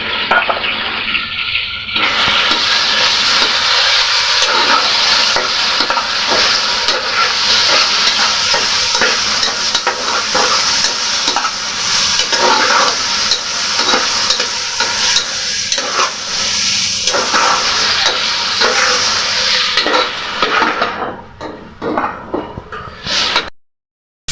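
Marinated meat frying in a pan for pasta, with a loud, steady sizzle and stirring scrapes running almost throughout, then cutting off abruptly at the end.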